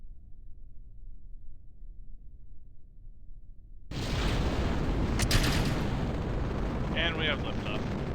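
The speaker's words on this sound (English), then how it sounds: "And we have liftoff." A rocket lifts off in Kerbal Space Program, a sudden loud, broadband roar of engines that cuts in after a quiet rumble and keeps blasting steadily.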